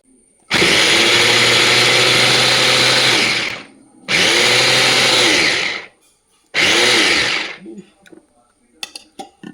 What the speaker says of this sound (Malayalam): പൊടിയായിട്ട് അരിയാൻ എളുപ്പം ഈ ചോപ്പറ, അതുകൊണ്ടാണ് ഞാനതെടുത്തത്.